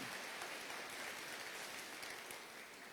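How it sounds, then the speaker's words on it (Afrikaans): An audience claps hands in applause, a dense steady wash of clapping that holds evenly and fades slightly at the end, heard alone without voices. "kom ons gee vir 'n lekker hande klap"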